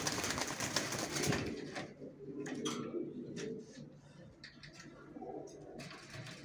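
Loft-bred racer pigeons and their young coo softly at close range, repeating low throaty calls in uneven bursts over a faint background.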